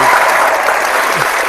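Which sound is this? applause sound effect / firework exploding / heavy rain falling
applause sound effect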